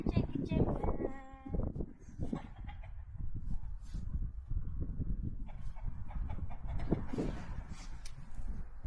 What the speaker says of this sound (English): There, chicken chicken.